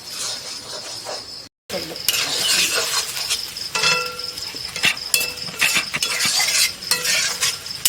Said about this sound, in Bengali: এই যে এখন আমি 2 মিনিট নেড়ে ছেড়ে আমি নামিয়ে দিব